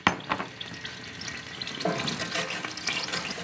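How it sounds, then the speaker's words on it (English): Red wine poured into a hot roasting pan over high heat to deglaze browned bits for beef stock, a sharp hissing sizzle with scraping and stirring that swells midway, close and without talking. "And now on high heat, 1 cup of red wine. And we'll deglaze the pan."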